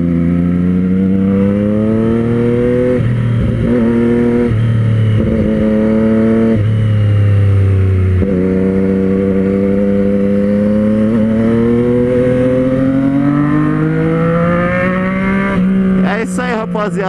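Yamaha XJ6 motorcycle exhaust revving loudly and steadily up close, its engine note rising and dropping through repeated throttle blips before a sharper burst at the end.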